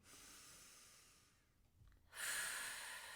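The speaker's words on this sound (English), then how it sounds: "take a deep breath into that" A deep, slow breath taken in and let out, soft and close, with a brief quiet pause before a louder, fuller airy exhale.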